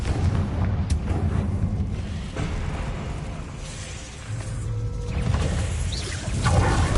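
A Confringo fire spell explosion in the Hogwarts Legacy video game, a dense rumbling blast amid continuous booming combat noise with low roaring texture, loud and sustained rather than a single clean bang.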